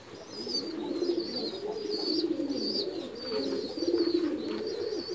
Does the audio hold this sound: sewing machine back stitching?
no